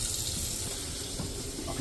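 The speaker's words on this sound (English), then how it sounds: "Right now I'm just trying to send some chlorinated water into the hot water heater." Chlorinated water runs steadily into a hot water heater, a continuous loud rushing hiss with no breaks across the short stretch.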